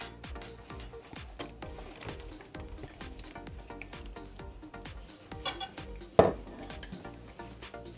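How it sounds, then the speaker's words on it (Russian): Potatoes laid onto a thickly oiled baking tray make repeated soft clinks and scrapes against the metal pan in an irregular rhythm, close and fairly quiet, with one sharper clatter near the end. "Теперь мы выкладываем картошку."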